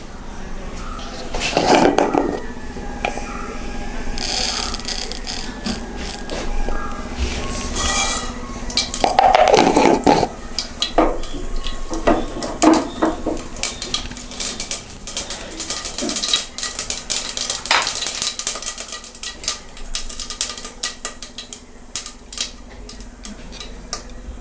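Mustard seeds sputter and pop in hot coconut oil inside a pressure cooker while making Kerala-style uppumavu, a scattered crackle with sharper bursts early on, mixed with clinks of utensils and kitchen noise.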